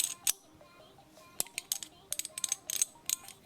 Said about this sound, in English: As you can hear, the threads are